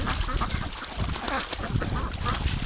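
Breeding ducks and geese call in early spring with scattered quacks and honks, moderately near, over a rough outdoor background.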